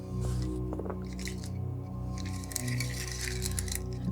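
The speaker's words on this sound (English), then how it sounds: "these I believe are 12 millimeter beads, but they fit the bill, so we're going to add these beads" 12 mm craft beads are handled and added to wire for a plant pot project: light, close clicks and rattling clinks come in a couple of brief bursts over a faint steady hum.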